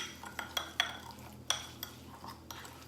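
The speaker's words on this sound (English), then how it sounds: "Okay, now I have all of my marinade put together. I'm just going to give it a nice mix." A utensil stirs a pork marinade in a bowl, giving a short run of close, uneven clinks and scrapes, with several sharper taps standing out over a quiet background.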